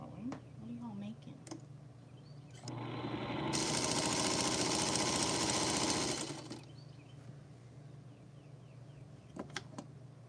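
A sewing machine stitches scrappy quilt pieces for friendship star blocks, running in one steady, fairly loud burst of a few seconds with quieter room sounds before and after.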